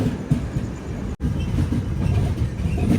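The Visakhapatnam Express rolls slowly through the Malkajgiri section near Secunderabad, a steady rumble of wheels and carriages with soft clatter, close and continuous apart from one momentary dropout.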